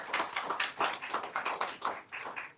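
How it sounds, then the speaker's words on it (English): A small audience claps for a capstone team at a university projects day, a thin, sparse patter of individual hands with distinct claps audible, moderately close and fairly quiet. "As we begin, we can give a round of applause if you want to."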